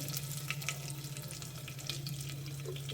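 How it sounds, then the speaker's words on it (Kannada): Mustard seeds and curry leaves frying in hot oil, a continuous crackling sizzle with scattered tiny pops over a low steady hum, moderately quiet and without talk. "ಸಾಸಿವೆ ಫ್ರೈ ಆಗ್ತಾಯಿದೆ. ಕರ್ಬೇವಿನ ಸೊಪ್ಪು ಹಾಕಿದ್ದೀನಿ ಸ್ವಲ್ಪ."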